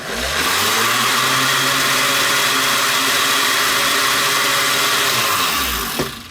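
A blender mixing a protein shake, its motor spinning up to a loud, steady whine that holds for several seconds before winding down, close by and with no speech.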